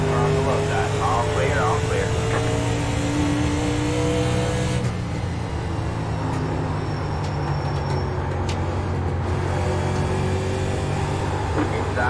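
Several race car engines drone steadily on track in an esports racing game, a dense, loud, continuous roar with shifting engine pitches, while a spotter talks over a radio.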